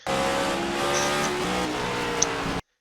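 A race car in a racing video game runs at sustained high revs with a steady engine drone. A faint tire squeal comes in near the end before the sound cuts off abruptly.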